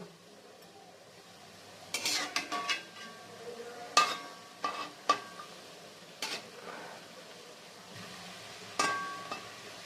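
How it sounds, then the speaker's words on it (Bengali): Fritters of pointed gourd and chana dal fry in oil, with a faint sizzle under clusters of sharp metal spatula scrapes and clinks against the pan, then quieter stretches between them. "এইভাবে করে আমি সমস্ত বড়া ভেজে নেব"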